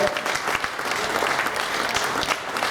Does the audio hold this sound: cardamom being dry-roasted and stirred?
no